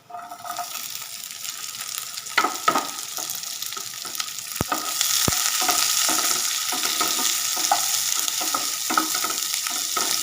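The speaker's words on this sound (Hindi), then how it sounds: "प्याजा भी आप चंकी तरह भुन लेना है" Onions fry with browned gram flour in a pan for an aloo shimla mirch dry sabji, crackling and sizzling steadily while a spoon stirs and scrapes, with a few sharp clicks against the pan, all close and unaccompanied by talk.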